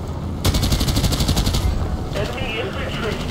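Rapid bursts of automatic gunfire in Battlefield Play4Free rattle for about a second, followed by a shorter burst, with background game noise.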